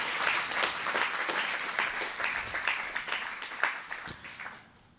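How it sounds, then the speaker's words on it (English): An audience at a spiritual talk gives sustained applause for the cooks who made the prasadam lunch, a lively patter of many hands that tapers off at the end. "I think we can give a round of applause to the prasadam makers"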